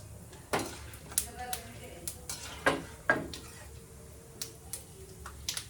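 Light stirring and scraping of peanuts frying in a pan with faint sizzling, sharp irregular clicks of a utensil against metal, recorded close but quiet.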